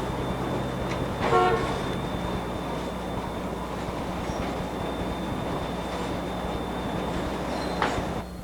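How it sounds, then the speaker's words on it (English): A Norfolk Southern westbound freight train arriving in Bluefield rumbles steadily nearby, with a short horn blast early and another brief toot near the end over the continuous rolling noise. "Norfolk Southern's westbound time freight number 195 arrives in Bluefield"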